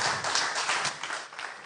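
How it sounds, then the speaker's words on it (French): Applause from a crowd at a business event, a steady wash of clapping hands lasting the whole moment, moderately distant with no talking over it. "Merci et applaudissements pour ces 2 belles entreprises."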